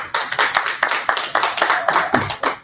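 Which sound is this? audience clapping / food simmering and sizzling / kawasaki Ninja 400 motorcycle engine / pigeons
audience clapping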